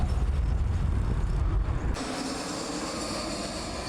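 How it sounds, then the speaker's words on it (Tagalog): Airplane engine roaring loud and steady at first, then the low rumble drops away abruptly partway through, leaving a thinner, quieter whine. "Sa paglupad kag paghumpa sa eroplano."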